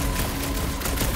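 A dense, rapid burst of video-game gunfire from Marvel's Guardians of the Galaxy, loud and continuous with no talking.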